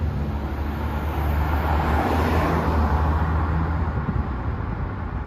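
An Aston Martin Lagonda Taraf saloon cruises smoothly on the road, heard from inside as a steady low engine and road-noise rumble with broad tyre hiss and no breaks.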